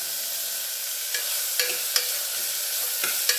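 Curry leaves frying in a pan, a steady close sizzle with a few sharp crackles and pops scattered through, no talking.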